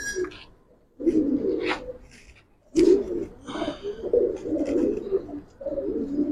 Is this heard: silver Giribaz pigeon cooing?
yes